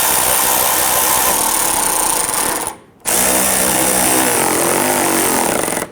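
A power tool drives bolts on a 2000-2006 Toyota Tundra with a loud, continuous high whirring buzz, cutting out for a brief pause before starting up again.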